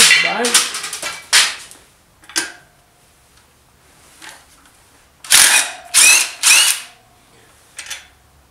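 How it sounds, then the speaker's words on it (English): DeWALT drill/driver driving a lag bolt, short bursts of whirring motor, a couple early then three close loud runs later, separated by quiet gaps. "Try a lag bolt."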